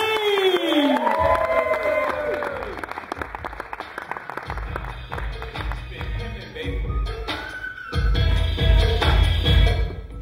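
A live comedy-club audience at a stand-up gig bursts into loud cheering, whistles and sustained clapping as a comedian is welcomed on stage, swelling again near the end after a brief amplified announcement.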